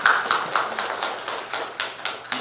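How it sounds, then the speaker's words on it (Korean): Welcoming applause from a church congregation during a Sunday service, a series of sparse, evenly spaced claps and taps from a small group, fairly close and clear with no talking. "우리 환영의 박수."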